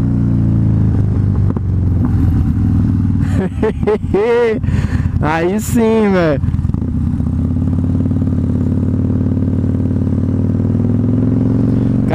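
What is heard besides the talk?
Harley-Davidson Fat Bob 2013 motorcycle exhaust pops while riding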